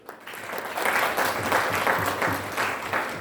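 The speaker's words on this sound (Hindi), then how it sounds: "एक बार जोरदार ताली।" An audience at a motivational seminar breaks into applause that swells within the first second and then holds as dense, rhythmic clapping throughout.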